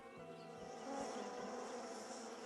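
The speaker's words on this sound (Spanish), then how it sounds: "Si la abeja avanza zumbando" Bees buzz continuously nearby, a soft droning hum with faint wingbeat tones that swells slightly midway.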